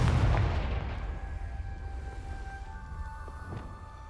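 A Confringo fire spell blasts in Hogwarts Legacy: a loud, booming burst at the start that fades into a long, low rumble with faint ringing tones trailing off.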